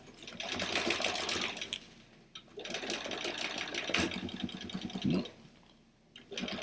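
A sewing machine stitches a fabric bag in quick, rattling bursts, with short pauses near the middle and the end. It sounds close and nobody talks.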